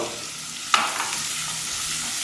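Onions sautéing with turmeric and salt in a pan for a Kerala fish curry, a continuous close sizzle with one sharp clink of a spoon early on, steady and unbroken with no voices.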